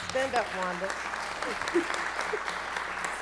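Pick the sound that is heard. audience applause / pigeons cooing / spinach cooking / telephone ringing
audience applause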